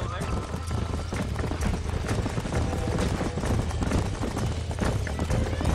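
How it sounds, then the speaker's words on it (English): Horse hooves clatter steadily beside ambient outdoor noise in the video game Red Dead Redemption, with voices talking over the top and an occasional whinny. "These are fine horses."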